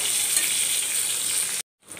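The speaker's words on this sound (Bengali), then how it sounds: "আবার রুই মাছটা ভাজতেছি" Rohu fish frying in oil in a freshly washed pan gives a loud, dense, steady sizzle up close, which cuts off abruptly near the end before faintly resuming.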